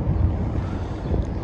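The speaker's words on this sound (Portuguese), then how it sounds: "Tá ventando muito, como é o costume." Heavy wind on a hilltop near El Ejido in Andalusia, southern Spain, a continuous low rumbling roar that surges slightly, close and buffeting the microphone, with no talk.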